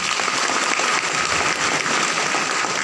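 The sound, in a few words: audience applause for guests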